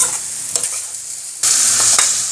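Eggs fry in a pan for egg curry with a steady close sizzle, broken by scraping stirring strokes, and the sizzle swells louder halfway through.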